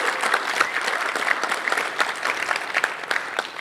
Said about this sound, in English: Can we just give a big round of applause to Kat